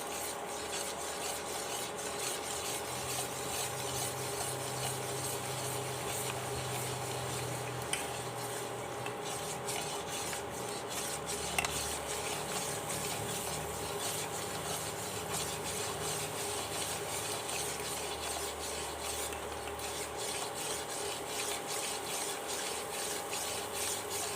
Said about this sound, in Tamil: கொஞ்சம் கொஞ்சமாக ஊற்ற இந்த மாதிரி கலக்கிட்டே இருக்கணும்.